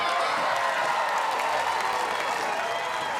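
Steady applause from a crowd watching a women's doubles semifinal at the Guaranteed Rate Championships, a dense wash of clapping that holds at an even level throughout.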